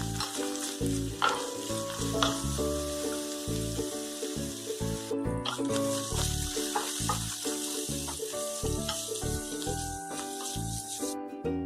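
Boiled green peas and carrot fry in a pan while being stirred, a continuous sizzle with scraping strokes, mixed with a steady layer of background music and no speech.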